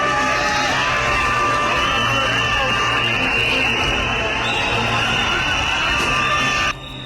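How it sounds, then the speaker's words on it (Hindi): Large, loud crowd outside a parliament clashing with police, a dense roar of shouting and yelling voices that holds steady throughout and drops slightly at the very end. "संसद के बाहर भीड़ और पुलिस में भिड़ंत हो रही है।"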